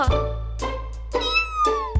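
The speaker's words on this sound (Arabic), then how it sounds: "قطة صغيرة" A small cartoon kitten gives several short, high meows in quick succession, close and clear over a low background hum.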